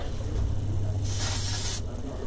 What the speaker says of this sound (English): I'm just spraying a little bit of that on there.